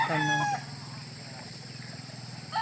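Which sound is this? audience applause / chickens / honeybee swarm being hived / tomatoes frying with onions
chickens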